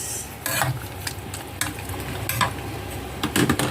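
Squid pieces dropped into a hot pan while cooking adobo set off a close, steady sizzle, with short bursts of crackle and clatter each time more pieces go in.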